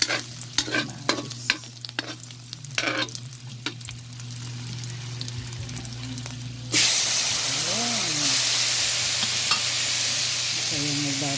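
Chopped tomatoes hit hot oil in a pan for ginisang munggo, bursting into a loud, steady sizzle that fills the second half, after softer stirring and scraping at the start.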